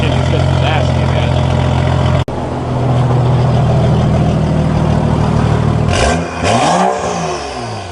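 A BMW 535i with an Active Autowerke tune idles with a steady, loud exhaust drone. It cuts out briefly, then resumes, and late on a rising and falling rev sweep passes while a person speaks nearby.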